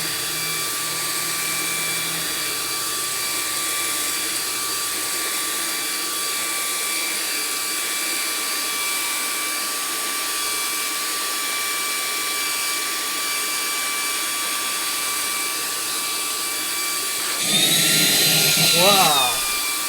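A VICSONIC handheld vacuum cleaner runs on its high setting with a steady, close motor whine and airflow hiss, rising sharply louder near the end.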